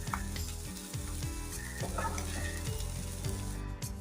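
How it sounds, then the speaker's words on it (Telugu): Bitter gourd pieces frying in a pan until dry and crisp, giving a steady close sizzle with a few soft stirring scrapes throughout. "ఇలా పొడి పొడిగా వచ్చేంత వరకు ఫ్రై చేసుకుంటే ఉంటుంది"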